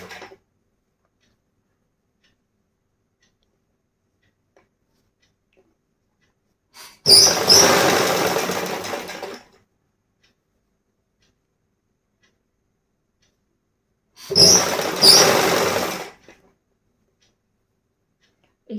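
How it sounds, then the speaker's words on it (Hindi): Sewing machine stitching ruffles slowly on a frock, two separate runs of steady rapid mechanical whirring, each about two seconds long, with long silences before and between. "इसी तरह से हमें धीरे धीरे धीरे धीरे सिलाई लगानी है ताकि ये रफेल्स प्रॉपरली बने"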